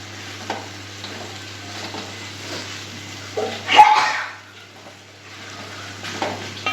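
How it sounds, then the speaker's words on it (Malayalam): Tapioca being stirred in a pot for kappa puzhukku, a soft continuous sizzle with a louder scraping stir burst in the middle. "നല്ലപോലെ ഇളക്കി കൊടുക്കാം"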